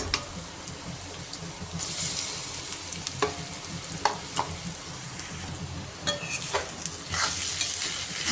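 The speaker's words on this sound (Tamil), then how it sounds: "அரைச்சி வச்சுருந்த பருப்பை எடுத்து இந்த எண்ணெயில் போடணும் போட்டு நல்லா வதக்கணும்" Ground lentil paste fries in hot oil for a Tamil lentil-ball curry, with a steady sizzle broken by irregular scraping stirs and clinks of a spoon against the pan, close and continuous.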